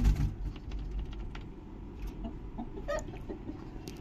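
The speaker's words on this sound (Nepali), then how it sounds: "अनि यतापट्टि कुखुरा छ" Chickens kept at a family home cluck softly and intermittently, a faint, distant murmur of fowl against a low rumbling background.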